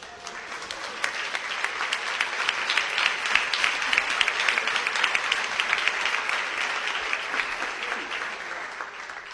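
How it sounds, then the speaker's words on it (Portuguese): A church congregation claps in praise, a dense, even patter of many hands that carries on steadily and stays moderately loud, with no speech over it. "podem louvar ao Senhor Jesus com as palmas"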